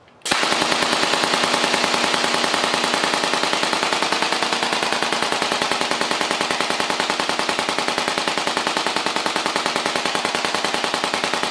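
Homemade full auto battery-powered air gun firing at about 600 rounds per minute, a sudden start into a long, fast, evenly spaced stream of sharp pops that continues steadily and loudly with no pause.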